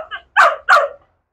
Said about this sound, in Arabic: شوف كلاب المدينه عايزين يعملوا ايه في في نتنياهو